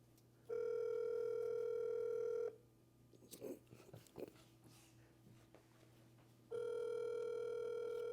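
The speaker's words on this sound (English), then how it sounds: "It's ringing." Two long, steady electronic ringback tones, each about two seconds, separated by a pause with faint rustling and low background hum.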